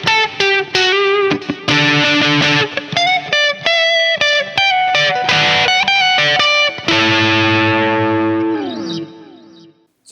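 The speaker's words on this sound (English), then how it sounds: "play the same riff, but going to use the second position that blends these two pickups" Ibanez S561 electric guitar with the blended pickup position, playing a riff of bright, lightly driven notes with chorus-like shimmer, loud and alone, ending on a sustained ringing chord that bends and fades.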